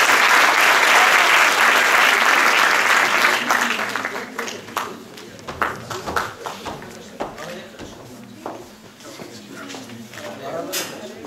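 A theatre audience at a Molière play's graduation ceremony bursts into dense, loud applause that thins after a few seconds into scattered individual claps.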